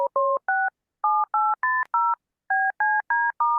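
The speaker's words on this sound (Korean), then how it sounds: "현우한테 다시 한번 전화해 볼게." A telephone keypad is being dialed, and a rapid run of about eleven crisp beep tones sounds in short even bursts with brief pauses. The beeps are loud and close, with no voices over them.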